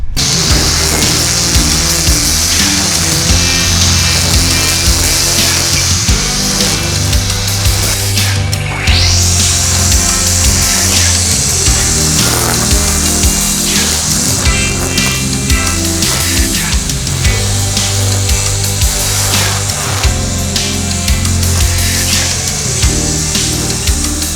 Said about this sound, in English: I am a huge fan of this string trimmer.